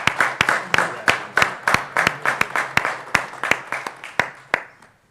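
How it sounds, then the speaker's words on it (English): Applause at a township committee meeting for a parade committee: a hall full of people clapping in a steady, lively burst with sharp individual claps standing out, fading toward the end. "how about a nice round of applause"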